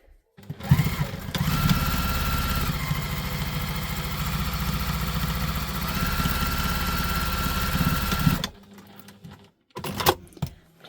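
A sewing machine runs steadily for about eight seconds while stitching a tote bag, its motor hum and needle clatter continuous and close, then stops abruptly, followed by a few brief handling knocks.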